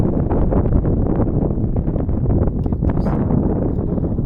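Breeze blowing across green village fields, buffeting the microphone as a loud, steady low rumble of wind noise throughout.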